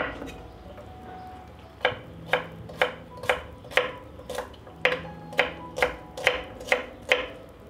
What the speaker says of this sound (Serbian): iseckat ću 1 glavicu belog luka